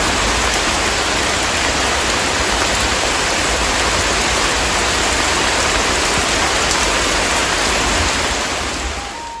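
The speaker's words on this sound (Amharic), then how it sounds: "ዝናቡ ኃይሉን ጨምሯል።" A heavy downpour roars loudly and continuously, a dense, even wash of rain that eases slightly at the very end, with no voices.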